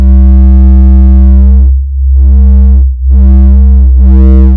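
A Voltage Modular synthesizer plays a loud, steady sine-wave tone rich in even harmonics, held in three sustained bursts separated by short gaps, alone with no voices.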